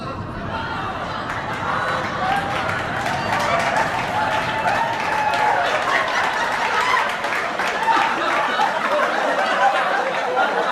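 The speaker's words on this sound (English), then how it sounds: "a disembodied audience begins cheering for him" A disembodied audience in Bo Burnham's Inside cheers and chatters, a dense steady crowd roar with scattered claps and whoops, even in loudness throughout.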